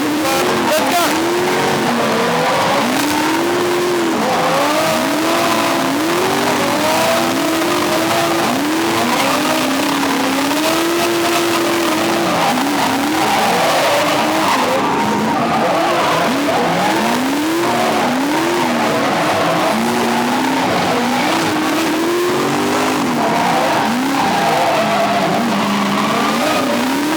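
Drift car heard from inside during a chase run on a track, engine revving hard in rising and falling sweeps while tires squeal and skid almost continuously, loud and close for the whole stretch.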